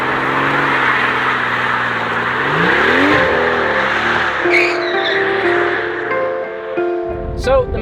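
A V12 Mercedes driving on the road, its engine droning steadily, then climbing and falling through the revs with gear changes and a brief sharp squeal near the end, loud and close.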